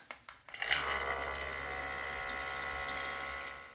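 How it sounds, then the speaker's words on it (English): An Outin Nano portable espresso maker pumps cold water through after a couple of faint clicks, making a steady, close hiss and gurgle of flowing water that continues unbroken. "I'm going to go ahead and run the cold water through this again to flush it out before we do our double shot."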